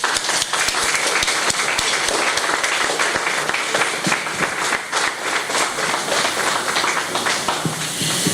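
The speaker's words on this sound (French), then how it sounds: "Alors je demande d'applaudir fortement Maria." Guests at a book launch clap loudly for the author, dense crisp applause with sharp individual claps standing out, sustained evenly from start to finish without speech.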